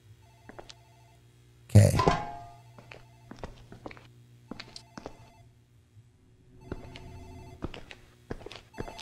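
A telephone rings in the video game Dark Fracture, with repeated ring bursts spread across a quiet room, plus a loud thump near the start and a brief spoken word.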